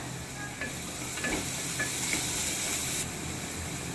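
Ginger, garlic and green chilies are stirred in a pan for beetroot pulao, giving a steady soft sizzle and hiss with light scraping stir strokes, close up and without talk.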